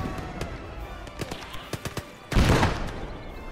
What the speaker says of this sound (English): I mean, mortar fire.